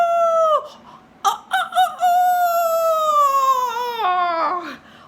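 A human voice imitates a rooster crowing, with sung, pitched cock-a-doodle-doo calls and short bursts between longer sliding notes, clear and close.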